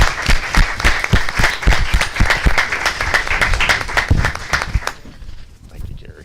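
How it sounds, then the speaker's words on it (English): Round of applause at a school board meeting: a room full of people clapping loudly and briskly for several seconds before it tapers off into quiet. "So let's give them a round of applause too."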